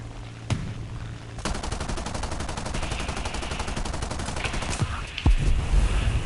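Aircraft guns strafe a target in War Thunder, a sustained rapid burst of gunfire lasting several seconds, loud and close, with a few sharper bangs near the end.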